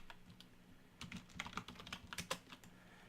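Someone types a name on a computer keyboard while installing Debian 8 in a VMware Workstation virtual machine: quiet, irregular clusters of key clicks, close and alone, with brief pauses between bursts.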